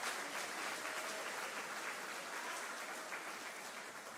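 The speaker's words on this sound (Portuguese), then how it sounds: "Pode aplaudir o seu pai que está nos céus?" A church congregation at a Sunday evening service claps in a faint, even, continuous patter that stays steady and fairly distant.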